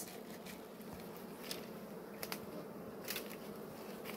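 Bees buzz faintly at a hive box, a low steady hum with a few brief close fly-by buzzes and small knocks.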